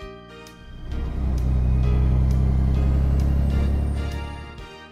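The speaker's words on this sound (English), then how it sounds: "Le camion." A truck engine rumbles deep and loud, swelling as it passes close by and then easing off, with no talk.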